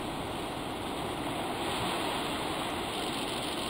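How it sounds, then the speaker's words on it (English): Steady broadband wash of ocean waves and surf in a video game, continuous and fairly loud with no clear individual breaks. "The waves."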